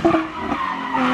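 Slick racing tires on a heavily lowered BMW E36 squeal and skid in a short burst, a wavering screech with engine noise underneath, fairly close.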